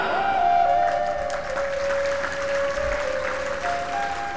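An audience at a Hindu devotional discourse claps steadily, a loud continuous patter of applause filling the room for several seconds.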